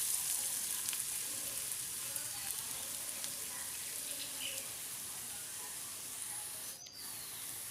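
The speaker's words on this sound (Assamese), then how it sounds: "পিঁয়াজখিনি সিজা অলপ সিজিবলৈ অলপ লৰাই দিম" Chopped onions fry in a pan with chilli powder and spices and are stirred now and then, giving a steady, even hiss that goes on the whole time with a few faint scrapes on top.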